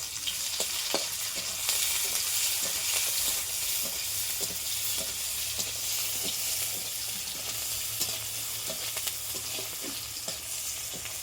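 Bay leaf, cinnamon, clove, cardamom and onion sizzle in hot oil in a pan for a prawn thokku, a continuous bright frying hiss punctuated by regular stirring clicks, close and steady.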